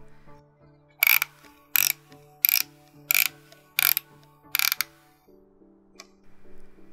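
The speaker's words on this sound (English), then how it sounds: "It also has a film advance mechanism that sounds very satisfying to turn." A Dubblefilm Show plastic camera's film advance mechanism is wound in six crisp, evenly spaced ratcheting clicks, close and loud over a faint background hum.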